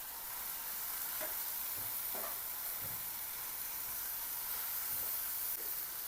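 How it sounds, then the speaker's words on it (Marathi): Moong dal and chopped dill greens being stirred in a hot pan, a steady soft sizzle and hiss with occasional scraping stir strokes throughout, no voices. "डाळीला परतून घ्यायचं। शेपूची भाजी टाकायची।"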